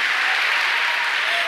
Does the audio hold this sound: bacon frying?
no